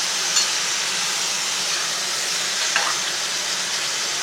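Mushrooms sauté in a pan with a loud, even, hissing sizzle that runs without a break, plus a couple of faint clinks and no voices.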